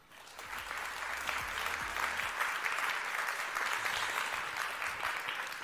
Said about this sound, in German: gerne nochmal einen Applaus